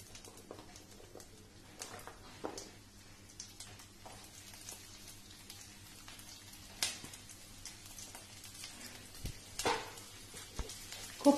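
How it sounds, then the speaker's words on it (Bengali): Cauliflower florets fry in mustard oil in a kadai for kopi chorchori, a soft continuous sizzle broken by scattered crackles and sharper pops that grow busier toward the end. "এবারে এর ভেতরে আমি কপিগুলো দিয়ে ভেজে নেব"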